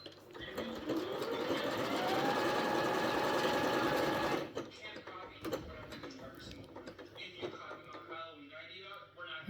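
An Elna Excellence 680+ sewing machine runs at a fast, steady, whirring pace for about four seconds and then stops. Softer clicks and handling sounds follow close by.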